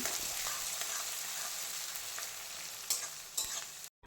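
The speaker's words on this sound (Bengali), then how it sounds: "পেঁয়াজটা দেওয়ার পর হাই ফ্লেমে পেঁয়াজটাকে ভালো করে ভেজে নিতে হবে" Chopped onions, four medium ones, fry on high flame in a pan for a home-style chicken curry, a dense continuous sizzle with a few louder spoon scrapes near the end before the sound cuts out abruptly.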